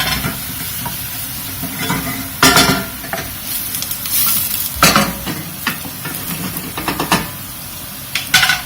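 Onions cook in pots with a steady sizzle that runs throughout, while a utensil stirs and scrapes against the pans in repeated close clatters.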